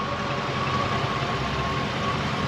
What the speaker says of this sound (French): Alors le moteur est doux, hein.